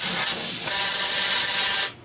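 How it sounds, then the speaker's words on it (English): An aerosol can of Fluid Film sprays in one loud, continuous hiss close by for nearly two seconds, then cuts off sharply. "I'll take a can of fluid film or something and spray that with that"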